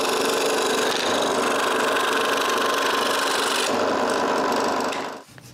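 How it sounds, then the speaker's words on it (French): A scroll saw cuts through walnut wood in a close, steady rasping buzz that runs continuously for about five seconds before stopping abruptly. "je coupe sa ligne avec la scie à chantourner"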